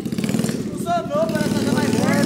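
A mini quad bike's small engine putters and revs with a choppy, buzzing pulse close by, while people talk over it.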